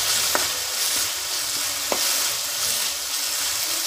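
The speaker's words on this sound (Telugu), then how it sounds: "ఇది కలపకుంటే అడుగు అంటుతుంది, మాడిపోయే ఛాన్స్ ఉంటుంది కాబట్టి మనం మాడిపోకుండా కలుపుతూ ఉండాలి." Spices fry in a pan with a continuous close sizzle while being stirred, with a few light clinks of the spoon against the pan.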